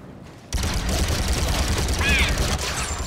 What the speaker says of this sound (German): Granate rüber.